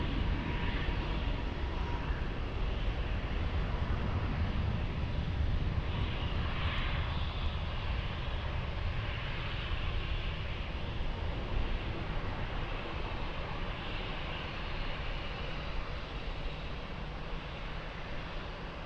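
Airplane on approach to land on runway 20 at Lisbon Airport, a continuous loud engine roar that holds steady and slowly fades slightly over nearly twenty seconds.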